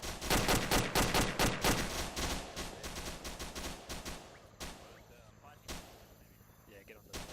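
A rapid string of sharp gunshots fires in quick succession during a Vietnam POW rescue operation, loud and close at first, then thinning to sporadic shots with a voice over the noise.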